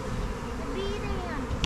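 Honeybees buzz in a dense, continuous drone near a swarm high in a tree, outdoors, with faint speech mixed in beneath the hum.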